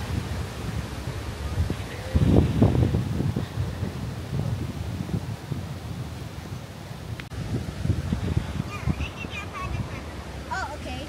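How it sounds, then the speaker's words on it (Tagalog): Wind gusts buffet the microphone with low rumbling rushes, rising and falling outdoors, with a bird-like chirp faintly in the background. "Naririnig nyo ba yung hangin?"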